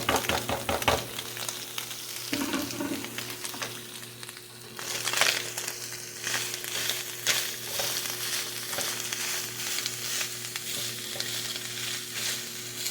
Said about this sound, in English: I'm going to go ahead and get my ground beef that I already had pre-cooked. I'm going to add that in now.